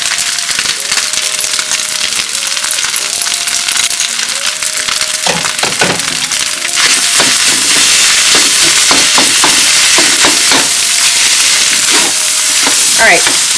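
Chicken fried rice with eggs and green onions being stirred in a hot pan, a loud continuous sizzle broken by repeated scraping and clattering strokes of the spatula, growing busier partway through.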